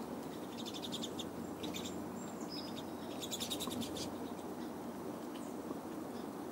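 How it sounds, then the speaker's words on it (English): Pine siskins chirp and twitter close by in quick, bright bursts that come and go over a soft, steady background hum. "Cutest little birds."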